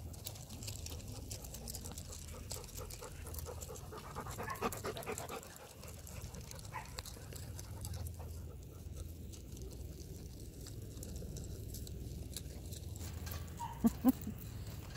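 A puppy pants quickly and rhythmically during play, fairly close but soft, with faint clucking hens and rustling in the background.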